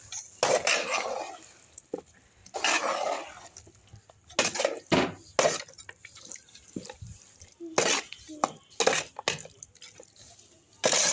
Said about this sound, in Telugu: ఇప్పుడు మనం కొన్ని చిన్న గ్లాస్ వాటర్ వేసుకొని కలబెట్టుకుందాం.